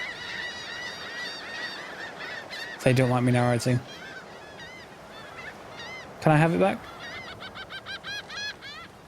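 Seagull squawks from a summoned ability in Divinity: Original Sin 2, a chorus of repeated nasal, honking bird calls with two loud harsh bursts, heard alongside someone talking.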